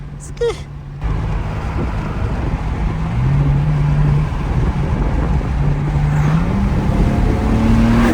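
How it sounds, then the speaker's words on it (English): A Porsche GT3 RS passes on a late-night street, its engine note climbing in stepped gear changes over a steady rumble, with people talking nearby. "That was a GT3 RS."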